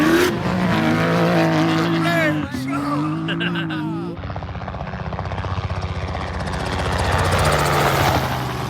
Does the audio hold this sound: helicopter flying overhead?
yes